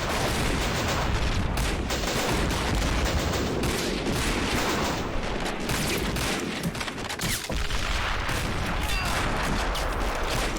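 Dense, continuous gunfire and explosions from toy army men soldiers fighting at range in the game Army Men of War, a steady loud barrage of shots and booms with no pauses and no talk.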